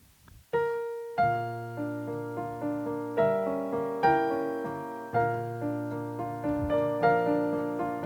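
A gentle solo piano piece plays a singing melody above rolling low chords. Notes bloom and fade in a calm, expressive rhythm.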